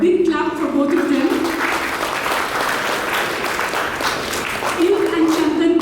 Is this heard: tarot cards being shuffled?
no